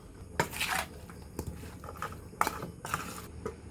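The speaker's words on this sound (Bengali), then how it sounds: "এখন ঢাকনা দিয়ে ঢেকে রাখলাম।" A lid goes onto a cooking pot of spiced meat and potatoes, giving a few sharp metallic clanks and scrapes spaced about a second apart, close by in a quiet kitchen.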